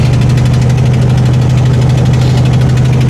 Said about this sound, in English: This one's got a pretty bad exhaust leak.